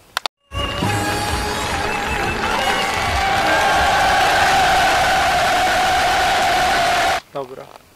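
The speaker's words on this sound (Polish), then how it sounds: "Podłożę tu jakieś oklaski do tego żartu" A canned applause track added after a joke, with crowd clapping and cheering rising abruptly and holding steady for several seconds before cutting off sharply.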